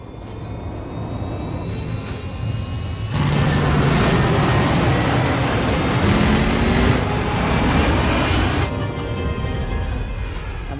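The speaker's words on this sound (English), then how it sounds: "I feel very convinced that that's a 747 getting into the air" A Boeing 747 takes off with a continuous broad jet roar that swells in the middle and stays loud and near throughout, with a faint rising whine and no voices.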